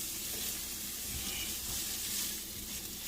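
Shrimp cook in a hot pan for shrimp quesadillas, a continuous dense hiss of sizzling fat, steady and fairly close, with no talking over it.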